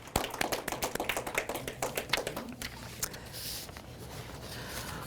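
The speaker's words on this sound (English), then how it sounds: "A warm round of applause for their good work" Applause from a library read-in audience: a dense patter of clapping hands that starts strong, then thins and fades into scattered claps and room noise over a few seconds.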